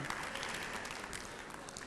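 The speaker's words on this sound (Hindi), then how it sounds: "जोरदार तालियां हो जाए।" Dense, steady applause from a large crowd, loud and continuous throughout.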